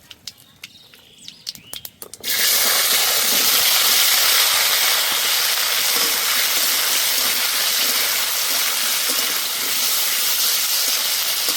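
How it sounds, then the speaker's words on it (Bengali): Tomatoes tipped into hot oil with fried mustard seeds, for a sour tomato and fish dish, set off a sudden loud, steady sizzle that holds strong to the end after a few faint clinks. "সর্ষেটা ভালো করে ভেজে নিয়েছি এই সময় দিয়ে দেব টমেটোগুলো"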